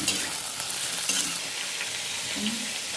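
Onion, tomato and green chili frying together in a pan for eggplant bharta, a steady close sizzle with scraping stir strokes throughout and no voices.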